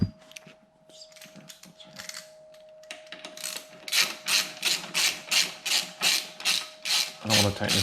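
A ratchet clicks in quick repeated bursts while tightening crash bar bolts on a 2020 Yamaha Tracer 900 GT motorcycle, close and crisp, after some quieter fiddling with metal parts and a faint steady hum.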